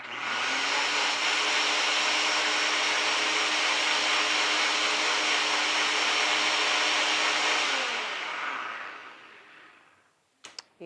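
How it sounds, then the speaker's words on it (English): Blender running on vinaigrette ingredients, a loud, steady high-pitched whir lasting several seconds before spinning down, followed by a few brief knocks. "We literally just dumped everything together. We're gonna give it a quick blend."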